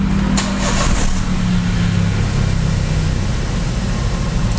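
An older Toyota Avanza or Daihatsu Xenia engine idles loudly and steadily nearby after a rev, its speed sinking slowly rather than dropping back quickly; no voices are heard.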